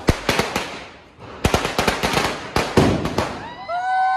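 Rapid bursts of loud Diwali firework bangs and crackles pop in irregular clusters, then a rising whistle of rockets launching shrieks near the end.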